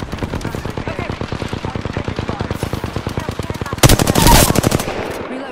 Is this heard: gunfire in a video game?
yes